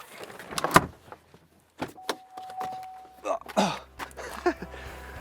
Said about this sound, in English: I'm going to get out of the back in a rather ungainly manner